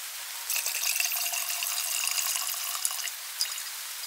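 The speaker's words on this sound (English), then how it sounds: "I take out the coconut water and put it into a jar." Coconut water pours into a jar in a jungle setting, a bright, steady trickling splash lasting a few seconds with small drips near the end.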